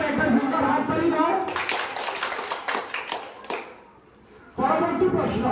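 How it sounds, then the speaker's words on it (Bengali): Schoolchildren clap hard for a correct answer at a Constitution Day quiz in a school, a dense burst of applause lasting about four seconds. It pauses briefly, then starts up again. "শুদ্ধ উত্তর একটা জোরদার হাততালি দাও।"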